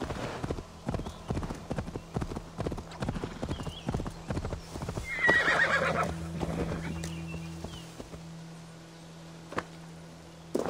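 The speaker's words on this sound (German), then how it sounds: "Dann holen wir die Pferde und dann gehen wir wieder weiter." Horses in the game Assassin's Creed Valhalla clip-clop in a quick galloping rhythm, then one gives a loud neigh midway before the hoofbeats thin out, with brief talk in the background.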